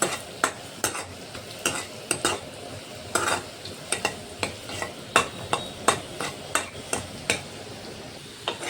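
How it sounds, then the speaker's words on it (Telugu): Onions fry in a pan under a soft steady sizzle while a spoon scrapes and taps against the metal in regular stirring strokes, close and moderately loud. "సో ఆనియన్ బ్రౌన్ కలర్ వచ్చేంత వరకు ఫ్రై చేసుకోవాలి, లేదా లైట్ పింకిష్ కలర్ వచ్చినా ఓకే."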